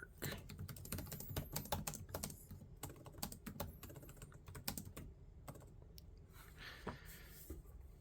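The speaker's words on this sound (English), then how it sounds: "show how good or bad I am at typing" Fast typing on the keyboard of an MSI Stealth 16 laptop during a typing test: a dense, uneven patter of close, crisp key clicks with brief pauses between bursts and no talking.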